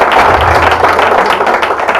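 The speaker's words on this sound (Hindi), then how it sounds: "एक बार तालियां बजाएं" An audience at a Hindi comedy poetry gathering claps together in a steady, dense burst of applause that carries loud and unbroken for a couple of seconds, with no voice above it.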